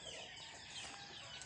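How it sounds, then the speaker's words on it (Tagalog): Chicks and chickens on a farm peep and cluck together in a steady, busy chatter, close by and fairly quiet, with no talking. "bigyan naman natin ng pagkain ng mga sisiw"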